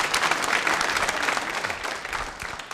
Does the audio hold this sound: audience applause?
yes